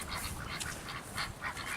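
Domestic ducks quacking outdoors on a chilly, windy late-October day, with repeated short calls at moderate distance over steady wind noise.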